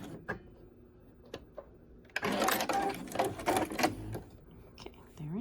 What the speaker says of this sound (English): Back stitching